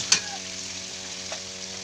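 Squid balls and kikiam frying in a pan for commercial-style pancit canton, a steady sizzle with a couple of brief stirring clatters, close and fairly quiet, no voices.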